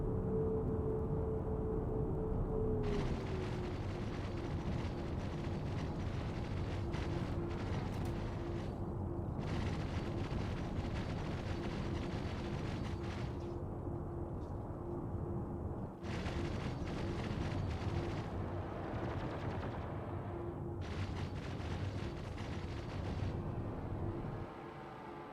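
Missiles exploding against a ship's shields in Star Citizen: repeated heavy rumbling blasts in separate bursts over a steady engine drone with a faint tonal hum, fairly distant and muffled, with no talking.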